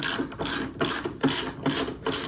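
A ratchet wrench tightening a 13 mm bolt on the front strut of a BMW Z4 Coupe, giving a steady run of close, rapid mechanical clicks in repeated bursts with no talking.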